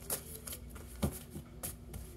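Tarot cards are shuffled by hand in a quick series of soft riffling flicks and taps, close and fairly quiet, with no talking over them.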